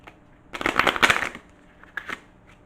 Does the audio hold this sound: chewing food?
no